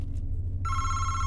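Video-game telephone ring that cuts in sharply partway through, a bright electronic bell tone held steadily over a low ambient hum, loud and close with no talking.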